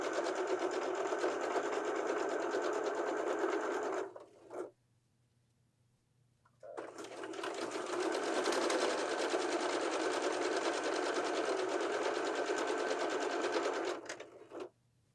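Sewing machine stitching a seam along a piped pillow edge with welt cord, running steadily for about four seconds, stopping briefly, then running again in a long continuous stretch, close and fairly quiet.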